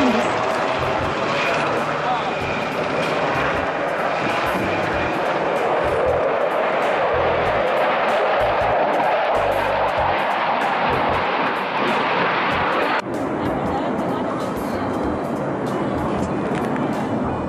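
Four US military jet fighters taking off from the runway at Kadena Air Base in Okinawa, seen from an observation deck, produce a loud, sustained roaring jet noise that swells and holds for the full stretch, with a sudden shift near the end.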